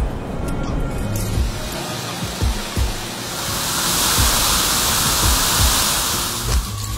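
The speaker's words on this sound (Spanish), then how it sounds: "hermosas caídas de agua." Steady roaring rush of the Catarata del Breo waterfall in Huicungo, Peru, a 150-metre drop, fills the scene, broad and continuous, with occasional low thumps beneath it.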